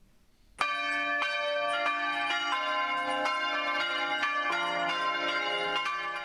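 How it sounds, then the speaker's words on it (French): Church bells peal for morning prayer, starting abruptly and then ringing continuously in loud, overlapping strokes that sustain and resonate without a break, with no voices. "les cloches ont sonné pour inviter les chrétiens à se rassembler dans l'église pour la prière du matin"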